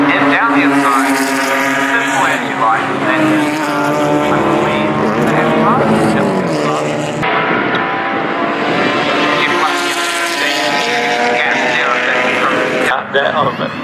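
Racing motorcycles on a track, their engines roaring loudly and continuously with rising and falling pitch as they pass close by, under steady commentator speech.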